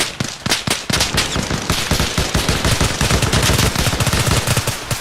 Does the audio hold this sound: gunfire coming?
yes